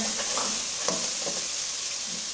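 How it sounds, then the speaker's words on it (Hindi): Steady sizzling of gosht with cluster beans frying in a pan with red chilli, with intermittent scraping and stirring sounds on top, close and continuous. "अच्छे तरीके से मिक्स कर लेना है और फ्राई करना है।"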